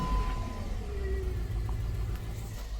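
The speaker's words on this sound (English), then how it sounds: "Let's just go ahead and turn the car on and see what happens." A 2005 Jeep Grand Cherokee with faulty oxygen sensors runs at idle, a loud, close, steady low engine rumble with a faint whine, no talking over it.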